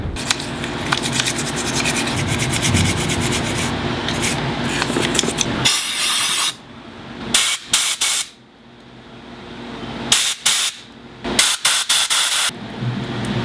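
WD-40 sprayed onto a Honda GL1500 carburetor: a long, steady close-up hiss and rub, then several short, sharp spray bursts separated by brief pauses.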